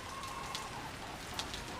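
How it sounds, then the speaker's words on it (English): Rain falls steadily on a porch, a soft, even hiss of drops with a few brighter nearby drips standing out; no one speaks. "this is my porch. It's raining. You can see. Everything's wet."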